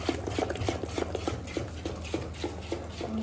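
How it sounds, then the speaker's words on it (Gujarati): Rava dhokla batter mixed with Eno is stirred in one direction, making soft, evenly spaced scraping strokes, roughly three a second, close up and with no voices. "થોડી વાર આમ એક જ દિશામાં ચલાવતા રહેવાનું છે આપણે"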